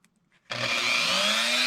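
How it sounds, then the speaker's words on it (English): A rotary tool with a half-inch sanding disc is shaping a wooden flig plug. After a short quiet start it spins up abruptly into a loud, steady high whine with a grinding, abrasive edge, close and with no talk. "use a rotary tool and a 1/2-inch sanding disc to do a rough shape on your flig plug"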